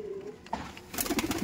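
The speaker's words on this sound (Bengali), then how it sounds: "এই যে দেখুন কালদম পায়রা।" Kaldom pigeons at a home loft cooing, soft throaty coos that swell into a quick run of repeated calls near the end, close by with faint background hiss.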